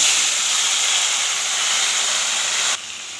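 Radish pieces and fenugreek seeds sizzle in hot mustard oil in a kadai, a steady dense frying hiss that holds loud and even throughout, then drops slightly near the end.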